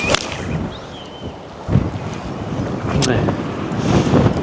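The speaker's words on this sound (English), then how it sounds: "It's quite windy, if you can. I don't know if you hear that" Gusty wind buffets the microphone out on a golf course, a rough, fluttering rumble that swells and drops over a few seconds.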